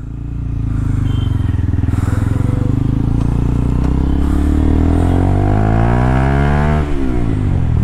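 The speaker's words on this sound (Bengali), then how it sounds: "এটা হচ্ছে TROGP speciality, stock exhaust sound." A Taro GP1 V3 motorcycle on its stock exhaust, heard up close and loud, its engine note rising steadily as the bike pulls away and accelerates while being ridden, with no talking.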